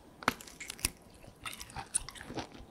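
Biting and chewing a convenience-store sausage with a juicy interior and a snappy casing, eaten alongside spicy rosé flat noodles: a few sharp close crunchy bites followed by softer, irregular chewing, with no talking.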